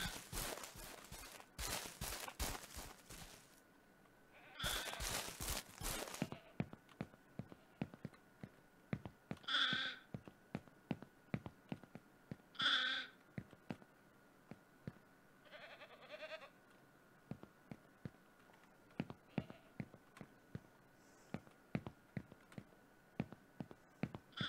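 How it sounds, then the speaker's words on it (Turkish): A male goat bleats in the farming game Ranch Simulator, with several distinct, fairly loud calls spread apart amid a run of quick clicking footsteps and other short game noises. "Bir tane erkek keçi var orada"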